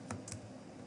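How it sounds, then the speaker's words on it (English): Two quick, light taps of a single computer keyboard key, close and crisp, one right after the other, against a faint steady room hum. "you click on P on your keyboard"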